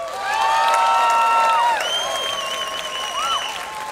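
Festival crowd applauding outdoors at Spanjaardsgatfestival, a steady wash of clapping with scattered cheers and a whoop, loud and close, mixed with high whistling tones.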